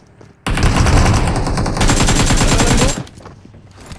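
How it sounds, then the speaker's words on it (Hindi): Loud automatic gunfire from a BGMI mobile battle royale match, rapid sustained bursts lasting about two and a half seconds before cutting off into quieter ambient game sound. "लोग क्या, तीन गोली मारा है।"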